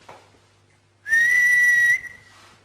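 A single clear, steady whistled tone holds for about a second at a slightly wavering pitch during a nighttime paranormal investigation, set against a quiet background with faint low hum.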